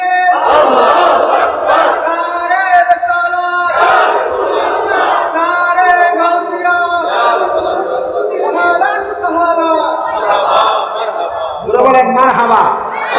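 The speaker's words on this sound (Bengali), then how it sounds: "জবান বলে জোরে একটা তাকবীর হবে, জোরে আরে তাকবীর" A large crowd at a Bengali waz sermon roars the takbir in unison, loud sustained collective shouts rising in waves across the whole stretch with brief dips between calls.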